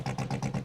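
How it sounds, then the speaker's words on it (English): A boat engine chugs on a canal in a steady, loud rhythmic pulse, about six even beats in under a second, with no voices over it. "Cut the engine!"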